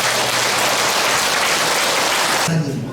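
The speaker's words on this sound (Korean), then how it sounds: "우리 예배 받으신 하나님께 영광의 박수 올려드리겠습니다" A church congregation gives loud, dense applause at the close of a worship service, a continuous wash of many hands that cuts off sharply near the end.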